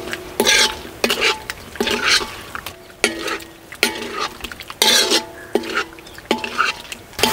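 Pepper chicken fry being stirred in a pan with ground pepper spice, a spoon scraping in repeated bursts roughly every second over a soft sizzle, close and moderately loud, with occasional clinks against the pan.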